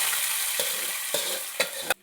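Onions and curry leaves frying in a pan for a Kerala-style pork curry, a continuous bright sizzle broken by several sharp scrapes of a spoon stirring, close up with no talking.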